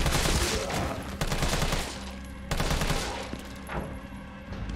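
Dense, rapid gunfire from Resident Evil 3 Remake in a hospital setting, loud bursts of shots crackling continuously over nearly five seconds with brief dips between volleys.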